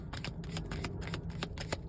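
A deck of cards is shuffled up close, giving rapid crisp riffling bursts in a quick irregular rhythm, loud and alone with no talk.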